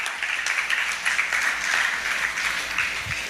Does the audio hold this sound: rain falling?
no